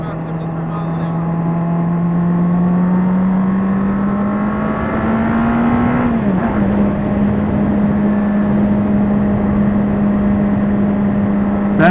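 A Honda CBR 600RR superbike engine pulls hard in first gear, its steady rising drone climbing in pitch, dipping briefly at a shift around the middle, then holding a loud, constant roar throughout.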